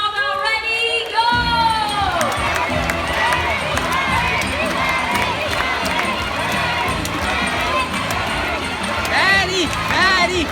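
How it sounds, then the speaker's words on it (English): Crowd cheering and shouting at a bird show at Jurong Bird Park in Singapore, loud and continuous for about ten seconds, with children's voices, whoops and chanting mixed in. "Barry supporters, you have to cheer much louder."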